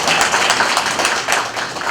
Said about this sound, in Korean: 우리 이렇게 수고하고 애쓰시는 우리 찬이팀에게 우리 큰 박수 한번 부탁드리겠습니다